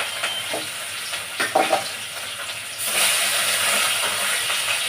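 Fish fries in a pan with a steady close sizzle, broken early by a few stirring scrapes and clicks. The frying then swells into a louder, fuller hiss.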